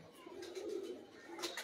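Pigeons coo softly in a faint, low, rolling murmur, with a brief higher chirp near the end.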